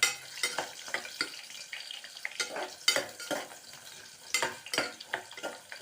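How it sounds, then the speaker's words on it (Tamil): Sambar onions (shallots) sauté in a pan, with repeated scraping stir strokes in quick, irregular bursts over a close, crackling sizzle. "இப்போ சாம்பார் வெங்காயம் போட்டு வதக்கின்னு இருக்கோம்"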